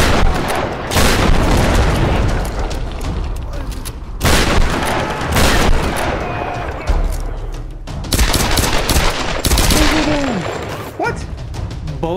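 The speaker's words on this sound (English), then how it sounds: "I didn't know they had a fucking machine gun." Bursts of machine gun fire in the Tomb Raider video game, with loud rapid volleys and booms repeating across the clip with short gaps between them.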